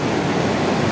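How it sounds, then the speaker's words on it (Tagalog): Water rushing steadily down a man-made cascade fed by Maranum Falls in Natividad, Pangasinan, giving a loud, continuous close-up roar with no talking over it. "dinig nyo ang agos ng tubig"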